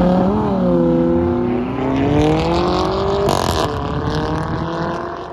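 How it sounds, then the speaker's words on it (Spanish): Loud, close engine revving from an Audi R8 and a Ferrari at a drag-racing meet. The pitch climbs and falls in sweeping waves, one steady roar layered over another, with a brief crackle near the middle. "suena muy bien, suena muy fuerte, pero en ese preciso momento nos arruinó el video porque suena demasiado fuerte, tanto que opacó el sonido del R8 y del Ferrari juntos"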